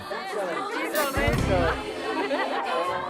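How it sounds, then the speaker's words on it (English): A large crowd of high school students chatters in an assembly hall, with a dense babble of overlapping voices and a few knocks and bangs. "A large crowd gathers in the assembly hall to hear a lecture on sex education."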